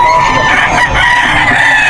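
A young rooster (stag) at a pet market crowing loudly and close, a single strained, wavering crow filling the moment.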